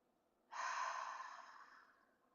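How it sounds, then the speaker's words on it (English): One long, deep inhaled breath during a guided breathing exercise, close and breathy, swelling quickly and then slowly fading over about a second and a half. "Take a deep breath in."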